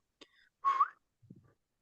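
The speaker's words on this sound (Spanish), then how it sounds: "¿Se acuerdan el silbidito?" A soft, short whistle rises near the middle, preceded by a faint breathy note and followed by a low, quiet murmur, all at low level in an otherwise quiet space.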